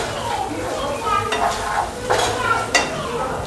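Masala pav filling mixed with sauce and Schezwan chutney in a pan, a spatula scraping and clinking against the metal in several strokes over a constant frying sizzle, close and clear.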